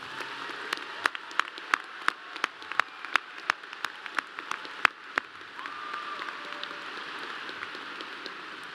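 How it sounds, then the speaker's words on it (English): A graduation ceremony crowd in a large hall answers a speaker with scattered, sharp claps. The separate claps ring out one after another, then thin into softer, sparser clapping and quiet room noise. "I think you all deserve a very loud round of applause."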